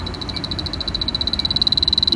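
An Inficon D-TEK Stratus refrigerant leak detector sounds its alarm, a rapid, steady chain of high electronic beeps that speeds up and climbs as it picks up a large leak, over a rough background rush.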